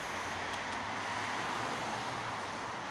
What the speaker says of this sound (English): I hope you can hear me, it's quite loud here, there's lots of cars.